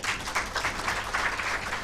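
At an awards ceremony and report launch, the audience claps briefly, a short burst of fairly close applause that pulses slightly.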